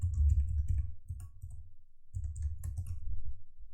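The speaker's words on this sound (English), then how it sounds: "So I'm just going to type in a very simple password." Fingers tap out a short password on a computer keyboard, a quick run of close, crisp key clicks, a brief pause, then another burst of keystrokes.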